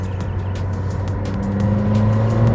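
A McLaren 620R street-legal sports car drives with a loud, buzzing engine note that climbs steadily, backed by rapid rhythmic clicks and vibrations from inside the cabin.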